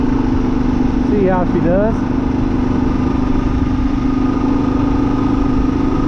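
A 2023 Kawasaki KLR 650 riding a gravel road, its engine a steady, loud droning hum with rushing wind throughout, while someone talks briefly over it.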